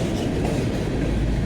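A westbound BNSF manifest freight train led by several locomotives rolls past at close range in La Crosse, Wisconsin, with a steady, loud rumble of railcars and wheel clatter filling the whole stretch.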